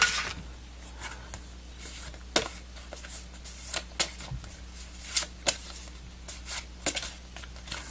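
Arrow Video Blu-ray lobby cards are handled and shuffled near the microphone, giving a series of crisp paper slaps, slides and rustles at irregular intervals with no speech.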